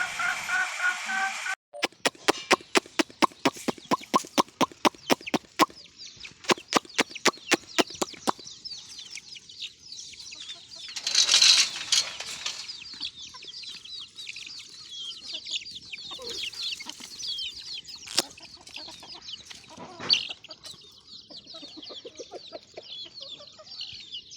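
Chickens cluck and squawk close by in a farmyard in Beed, with a rapid burst of sharp calls, some wing flapping, and scattered clucks continuing throughout.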